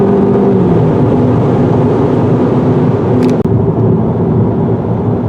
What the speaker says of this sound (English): On the freeway, the passing power of this 4-cylinder engine is more than adequate.